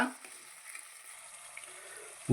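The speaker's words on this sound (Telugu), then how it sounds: "అలాగే 2 టమోటాలు సన్నగా కట్ చేసుకున్నానండి. ఇది కూడా యాడ్ చేస్తాను. చక్కగా వేయించుకోవాలన్నమాట." Curry leaves and thinly chopped tomatoes fry in a pan, giving a soft, steady sizzle that hisses on quietly throughout with no voice over it.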